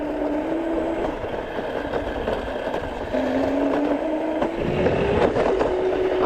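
Scooter ride with a steady engine drone whose pitch rises and falls as it speeds up and slows, close and continuous, no talk.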